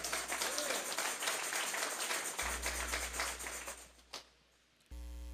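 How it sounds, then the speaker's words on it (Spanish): Dense clapping from a church congregation fills the space for several seconds, then fades out into a steady hum. "Vamos a darle un fuerte aplauso pues al Señor."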